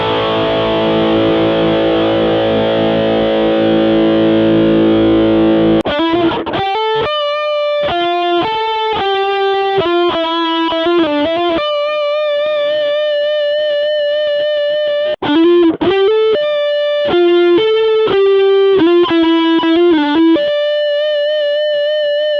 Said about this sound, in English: The distortion is a very high gain sound, mainly used for leads. It has an incredible amount of sustain